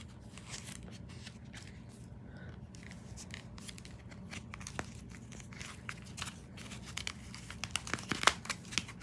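Tape pulled and pressed onto homemade boxing gloves, with faint crinkling, tearing and sticky crackles, quiet and close, sharper snaps near the end.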